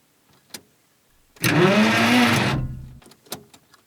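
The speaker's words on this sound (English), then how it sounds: "It sounds like the starter done screwed up." A 1950 Plymouth starter motor spins for about a second with a loud whirring grind that does not catch, between a few faint clicks and taps.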